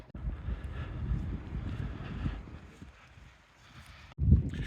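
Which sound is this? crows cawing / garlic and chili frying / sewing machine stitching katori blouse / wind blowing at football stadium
wind blowing at football stadium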